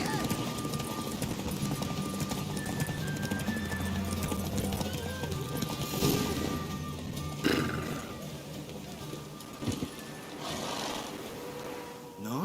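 Horse hooves clip-clopping in a horse race in The Witcher 3 video game, a steady rhythmic galloping beat with occasional whinnies and game music beneath, running throughout and fading near the end.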